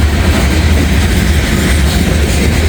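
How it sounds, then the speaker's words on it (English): A heavy freight train of cement cars rumbles past close by, a loud, steady low roar with rhythmic clickety-clack from the wheels throughout. "Man, it's a heavy grain train."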